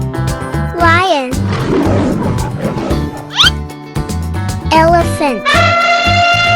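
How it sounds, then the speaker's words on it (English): A cartoon lion gives loud roaring bursts over a dense, steady musical bed with swooping tones. A voice can be heard in places. "lion"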